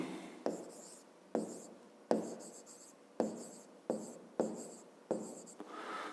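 Pen writing numbers on paper: a series of close scratchy strokes, roughly eight short bursts in a steady rhythm, quiet and without talk.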